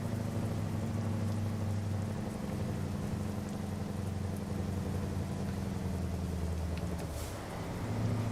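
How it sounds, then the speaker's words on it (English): Steady rain and thunderstorm ambience in American Truck Simulator, a dense continuous hiss of rainfall over a low engine-like rumble, constant and fairly loud throughout with no talking. "Rain and fog. Regular old thunderstorm looks like."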